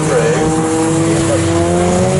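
Race car passing at speed during a trackday trophy race at Snetterton circuit, a loud close engine drone with steady pitch lines sweeping through over about two seconds.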